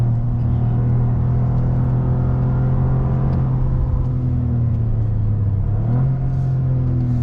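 Loud, steady engine rumble from a Toyota GR Corolla with an automatic transmission accelerating on a track, a continuous close drone with a brief pitch shift near the end.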